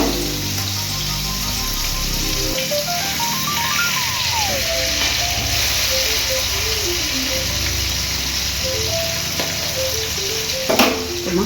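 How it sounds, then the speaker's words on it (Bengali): Pabda fish fry in a pan with a steady, dense sizzle and crackle close by, running unbroken throughout with no one speaking. "এই মাছ একটু হালকা করে ভাজতে হয়।"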